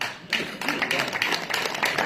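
An audience applauds at a Hindi kavi sammelan poetry gathering in Pilani, with dense, steady clapping that starts after a short pause and continues at moderate loudness.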